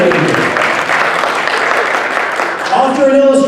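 An audience claps steadily and warmly for author and illustrator Alan M. Clark at the opening ceremony of a sci-fi and writing convention, the applause filling the room evenly before thinning slightly at the end.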